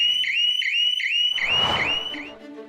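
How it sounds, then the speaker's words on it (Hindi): A shop shutter anti-theft alarm built for retail stores sounds a loud, close electronic warble, a rising-and-dipping tone repeating about every half second, with a burst of noise midway before it cuts off. "10 मेंबर्स से बनी टीम डिजिटल सुरक्षा शॉप्स के लिए ऐसे शटर अलार्म्स बनाती हैं जो चोर के आते"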